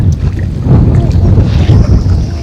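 Strong wind at a reservoir while fishing buffets the microphone in loud, gusting low rumbles that rise and fall continuously, with water and boat noise beneath.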